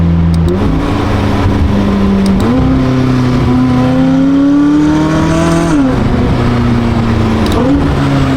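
A McLaren 570S sports car drives while its engine revs up through several gear changes, rising tones that drop and climb again, loud and close inside the car with steady road noise beneath.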